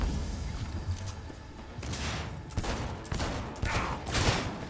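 Gunfire and explosions in the video game Cyberpunk 2077, including shotgun blasts, as a dense, continuous fusillade of shots and booms with loud bursts recurring throughout, no voices heard.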